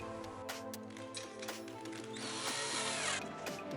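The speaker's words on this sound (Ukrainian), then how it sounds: "Саморізами кріплю підвіси до пластикової рамки." A power screwdriver drives self-tapping screws through hangers into a plastic stretch-ceiling frame, with short clicking bursts and then a steadier rising whir, close and fairly quiet.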